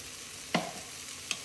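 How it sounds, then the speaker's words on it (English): Ground turkey with spices sautés quietly in a pan for chili, a soft steady sizzle broken twice by brief scraping stirs of a utensil. "this is probably been sauteing for like 5 minutes"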